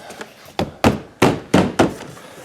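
Window trim clips on a Cadillac ATS passenger door being tapped into place by hand, six firm thunks at an uneven pace, loud and close with no talk.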